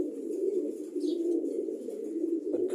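Pigeons coo steadily in a low, continuous murmur, with faint chirps rising briefly above.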